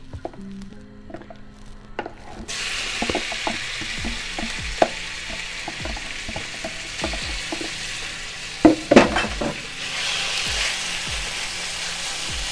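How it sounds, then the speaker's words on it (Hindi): Chicken pieces dropped into hot oil while making pizza patties: a soft start, then a sudden loud sizzle that fills the rest, with repeated sharp spatula scrapes and knocks, close by, no talk. "ऑयल गर्म हो गया हमारा, अब हम इसमें चिकन डालते हैं।"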